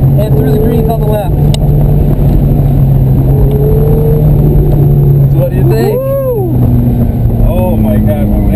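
A Ferrari driven on a track at Candlestick Park, its engine droning loud and steady from inside the car, rising and falling slightly with throttle, while people talk over it.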